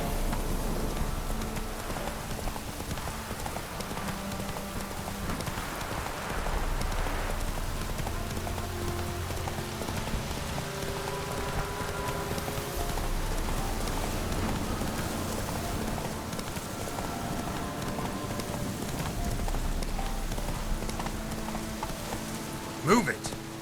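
Horse hooves clip-clopping through steady rain in The Witcher 3, mixed with game music and a voice calling out, continuous and moderately loud across the whole stretch.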